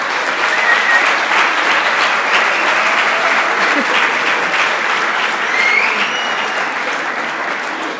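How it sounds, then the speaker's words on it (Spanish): Sustained applause from an audience at a university campus festival gala in Alcoi, dense and steady clapping filling the whole stretch at a loud, even level. "os pediría de parte de todos un fuerte aplauso"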